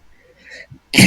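A single short, explosive sneeze bursts out at the end after a brief quiet intake of breath, close and loud.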